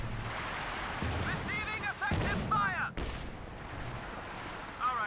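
Artillery barrage from the Company of Heroes 2 strategy game, with heavy booming impacts and gunfire crackling in a steady wartime din under a talking voice.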